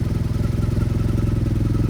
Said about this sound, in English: Listen to that exhaust, man.